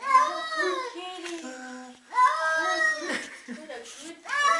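A cat meows repeatedly in long, wavering, drawn-out cries, loud and close, with short gaps between calls while a person speaks soothingly in the background.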